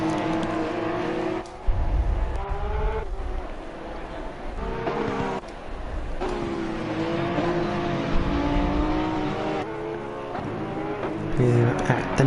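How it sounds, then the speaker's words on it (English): Porsche Supercup race cars roar around the Nürburgring in a racing video game, a steady, loud engine drone with gear shifts, heard under continuous commentary. "we've got some sound, the lovely Porsche Super Cup cars."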